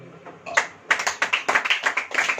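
A church congregation claps at a Hindi-language sermon: sharp claps, first a few scattered ones, then a quick, steady rhythmic run, fairly close and clear with no talking.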